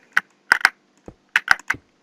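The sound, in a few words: typing on a membrane computer keyboard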